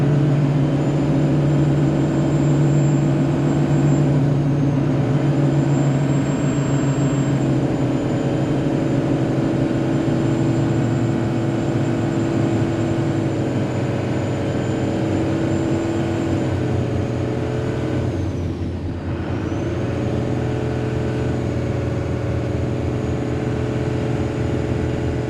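Cummins diesel truck engine droning steadily from inside the cab while driving, a loud constant hum with a pitch change and dip near the end as it shifts gears.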